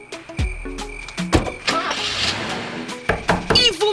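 A car engine starts, the starter cranking in short bursts before the motor catches, mixed with clatter, knocks and a voice speaking nearby.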